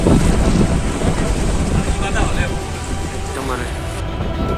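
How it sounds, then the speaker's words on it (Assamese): Strong wind buffets the microphone over rough river waves slapping a boat on the Brahmaputra during a cyclone-like storm, with the boat's engine struggling, a loud continuous roar with voices heard faintly underneath. "নদীৰ ৱেভটো একেবাৰে পুৰা মাৰিছে, মানে একদম চাইক্লন টাইপ"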